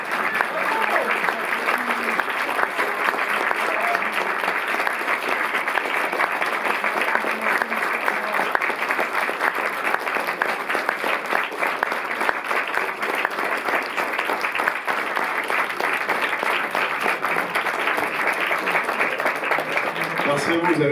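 A packed cinema audience at a film club screening gives a long, sustained ovation, dense and loud clapping rolling on evenly for about twenty seconds with a crowd murmur and voices folded into it.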